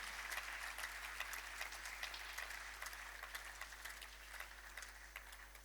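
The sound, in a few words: applause for the European Union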